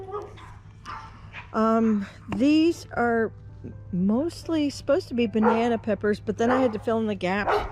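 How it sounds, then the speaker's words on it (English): Dogs barking in the background of a backyard garden with pepper plants and onions, several short yips and barks scattered under someone talking about her plants. "Sorry for the dogs"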